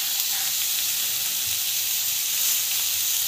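Tomato, green chili and carrot sizzling in hot oil, an even, continuous hiss up close that holds steady from start to finish with no voices.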